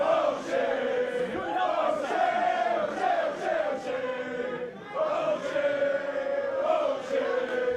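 Arena crowd at an independent CWFH wrestling match, a sustained roar of chanting and jeering voices with rising and falling swells, filling the room steadily throughout.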